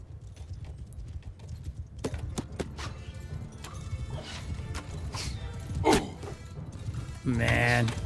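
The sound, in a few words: horse hooves clip-clopping in video game Mount & Blade II Bannerlord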